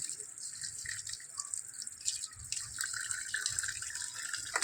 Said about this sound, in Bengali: তারপরে মাছ ধুচ্ছি, দেখো বন্ধুরা।